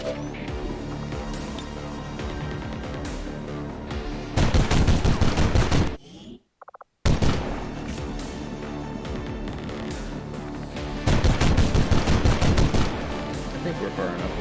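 Dense rattling bursts of automatic gunfire from the Warhammer XCOM 2 video game roll on almost continuously, loud and layered, with rapid repeated shots, a brief gap, then more heavy firing.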